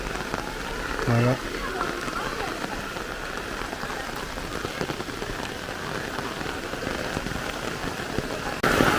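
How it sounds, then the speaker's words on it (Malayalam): Steady rain patters on surfaces outdoors, a dense even hiss lasting throughout, with a brief voice near the start and another near the end. "മഴ"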